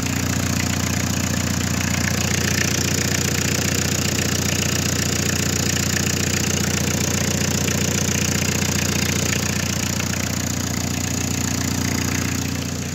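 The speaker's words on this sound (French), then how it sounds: "pour un moteur diesel qui a bientôt 30 ans" A nearly 30-year-old diesel car engine, roughly a 1995 model, idles with the hood open, giving a loud, steady, rattling knock throughout with no voices.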